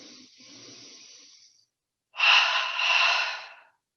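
Double breathing in a seated yoga session, the breath moved from belly to chest: a soft drawn inhale, a short pause, then a louder, close, airy two-part breath, heard alone.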